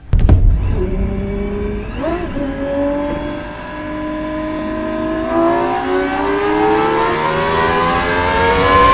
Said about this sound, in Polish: silnik jest w stanie się rozkręcić w zaledwie dziesiąte sekundy